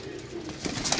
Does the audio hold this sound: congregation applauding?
no